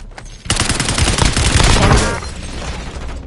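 Loud bursts of rapid automatic gunfire from the video game Warzone rattle for about two seconds after a short lead-in, then taper into a ringing tail.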